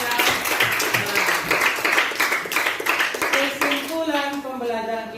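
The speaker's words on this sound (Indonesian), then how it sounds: "Kita berikan tepuk tangan untuk Kesia." A classroom group claps together during a teaching-module lesson. The clapping is strong at first, then thins out as a voice starts speaking over the tail end.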